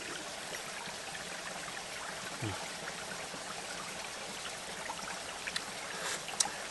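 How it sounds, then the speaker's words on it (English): Spring water trickles steadily in a stream out in the bush. It makes a soft, continuous wash of water sound, faint but unbroken, with a few small splashes near the end. "spring water"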